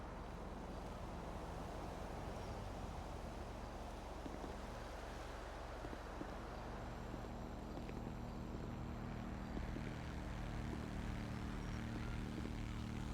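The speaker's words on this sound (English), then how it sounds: "Oh, it was just a really loud motorbike." A very loud motorbike in a video game roars past with a steady, rough engine drone that swells slightly toward the end, heard alone without talk.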